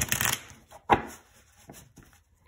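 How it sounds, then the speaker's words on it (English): Oracle cards being shuffled at close range, one quick burst of riffling at the start, then a sharp tap and a few softer card handling sounds fading out. "I'm going to shuffle these cards"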